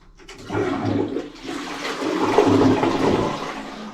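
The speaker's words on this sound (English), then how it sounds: "bring the float on the Fluid Master up, and everything's flushing good" A toilet flushing after its Fluidmaster fill valve float was raised, a full tank of water rushing down in a loud, steady gush with swirling surges, heard alone and close.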